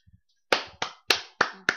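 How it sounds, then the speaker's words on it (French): Five sharp hand claps in an uneven rhythm, close and crisp, preceded by two faint soft taps, with no voices. "Je t'applaudis."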